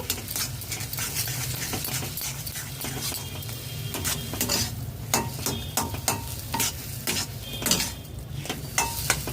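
Pav bhaji masala frying and sizzling in a pan while a utensil stirs it, with steady sizzle and repeated scraping and clinking strokes throughout, close and moderately loud, no talking.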